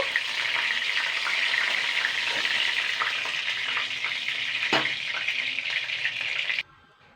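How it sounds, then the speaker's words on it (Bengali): Stuffed ash gourd in batter fries in hot oil over medium heat, a steady bright sizzle with occasional crackles and a brief stir, the sizzle falling away abruptly near the end. "এরকম করে লাল লাল করে ভেজে নিতে হবে আর এই কাজটা কিন্তু মিডিয়াম আঁচে করতে হবে"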